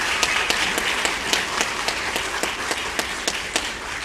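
A church congregation applauds at a service, steady dense clapping with a few sharper claps standing out, close and fairly loud with no talking.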